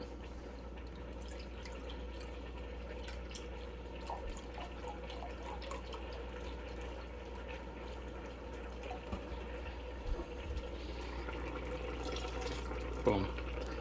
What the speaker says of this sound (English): If it's too dry, we can add a little more broth.